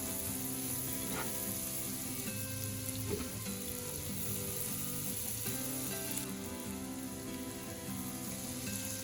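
Chopped onion frying in a pan, a soft continuous sizzle with a steady hiss underneath, with musical tones playing throughout.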